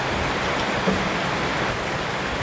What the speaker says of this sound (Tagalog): Medyo lumalakas na talaga yung ulan.